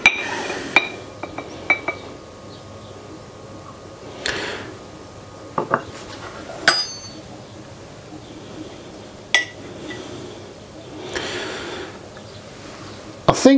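A knife cuts into a frozen raw egg yolk on a plate, giving faint scattered clinks and taps against the plate in a quiet room.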